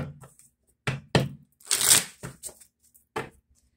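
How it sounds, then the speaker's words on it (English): Several quick papery riffles and slaps of a tarot deck being shuffled, close by, in short separated bursts. "One more shuffle."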